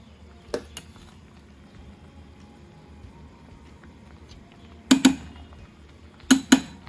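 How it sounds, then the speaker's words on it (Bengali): Cooked rice checked and drained from a pot: a few sharp metallic clinks of the pot and lid in short clusters, with faint kitchen noise between. "এখন ভাতটা একটু চেক করে ঢেলে ফেলবো"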